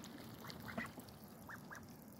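Several short nasal quacks from ducks, a few close together and then two more spaced apart, over a steady low background hum.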